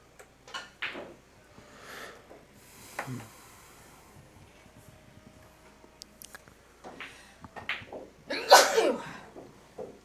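One loud, close sneeze bursts out near the end, amid quiet room noise and faint clattering at a pool-hall event stream.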